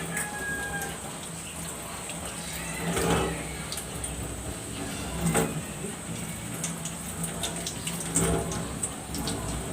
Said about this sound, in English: rinsing mechanically washes away the dirt and the microorganisms into the sink